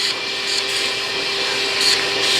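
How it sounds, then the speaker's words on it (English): A vacuum cleaner sucking grass and debris out of a lawn mower air filter, a loud, steady whine and rush that holds throughout, with brief flutters as the nozzle moves over the filter. "I will take this filter here and vacuum the"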